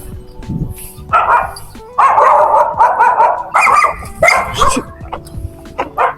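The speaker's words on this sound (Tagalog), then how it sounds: "Huli pa tayo ng aso." A dog barks in a run of loud, close, sharp barks, some quick and clustered, with short gaps between bursts.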